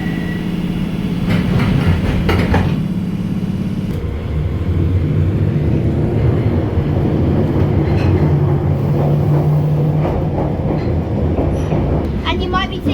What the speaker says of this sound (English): we are on the Bakerloo line